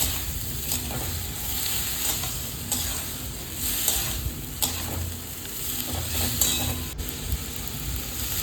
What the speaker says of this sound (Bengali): এরপর দিয়ে দিচ্ছি আমি সামান্য পরিমাণ জল সামান্য পরিমাণ জলটা দিয়ে কিছুক্ষণ নাড়াচাড়া করে নেব আবারও